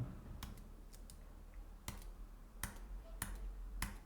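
Keyboard keys pressed on a computer keyboard for a copy shortcut, giving a handful of sharp, isolated clicks spaced irregularly, close and fairly quiet over a low room hum.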